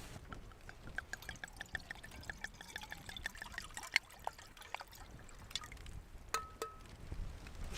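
Wine trickles into a glass at a windy winter mountain campsite, a soft uneven pour with faint splashes, quiet against a gusty outdoor background.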